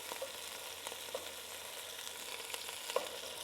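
Swedish meatballs frying in a pot, being turned over partway through browning; a steady, close sizzle runs throughout with a few soft clinks and scrapes from the flipping.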